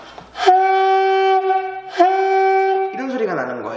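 Saxophone high note blown with too much lower-lip pressure on the reed: two sustained, strained, nasal tones in a row, followed by a short stretch of talking.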